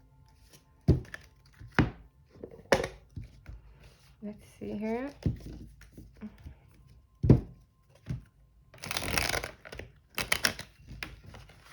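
A glossy, flexible Tarot of Mystical Moments card deck is shuffled by hand in a few separate bursts: sharp taps, dull thuds and quick riffling swishes, close and clear. A speaking voice comes in between the bursts.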